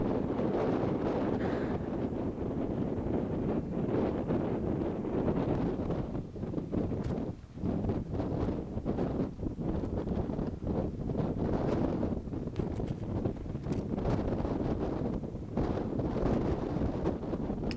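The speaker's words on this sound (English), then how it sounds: "Very windy up there." Strong wind on a high Himalayan mountain pass strung with prayer flags roars and buffets the microphone in a dense, continuous rush that surges and dips briefly.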